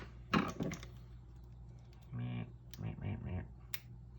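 A piece of a homemade drip irrigation tube holder is cut off with a few sharp, close snips and crisp clicks, followed by short scraping and rustling handling noises.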